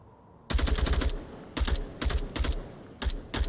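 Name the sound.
gunfire in the Onward VR video game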